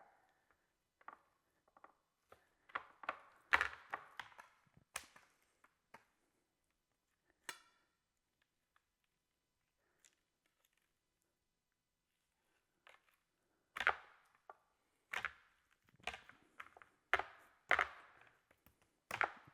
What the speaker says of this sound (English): Kind of cut into the thicker portion of the breast and then peel it back.